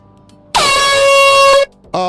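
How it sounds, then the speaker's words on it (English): A loud, sustained air horn blares for about a second in the game Satisfactory, then cuts off, and a second blast starts just before the end. "Oh, that's an air horn."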